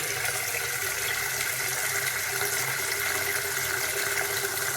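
Water pours steadily from a hot tap fed by a water tank, a constant hiss and splash nearby with no talking.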